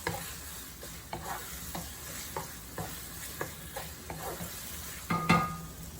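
Spicy Indonesian eggplant with canned quail eggs stirred in a frying pan over medium heat: steady sizzling under repeated scraping strokes of the spoon, near and fairly even, with a sharper clatter near the end.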